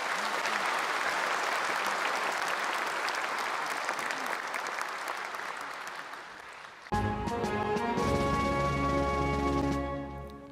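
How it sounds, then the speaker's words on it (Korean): Sustained loud applause from a large audience at a Korean Liberation Day ceremony, steady and dense clapping, which gives way to orchestral music entering near the end. "여러분 다시 한번 큰 박수 부탁드리겠습니다"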